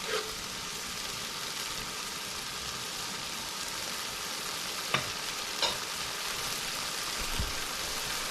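Masala, cumin, curry powder and turmeric fry in a pan for a catfish curry, giving a steady close sizzle with a few brief clinks of a utensil against the pan.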